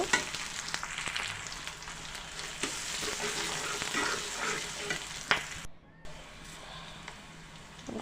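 Pointed gourd frying in a pan with salt added sizzles steadily and loudly up close, with a spoon scraping and stirring through it. A short pause near the end drops the sound before the frying resumes.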